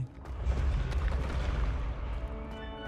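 A Confringo blasting spell explodes in Hogwarts Legacy, a loud rumbling boom that rolls on as a sustained low roar with crackling debris and game ambience for nearly three seconds.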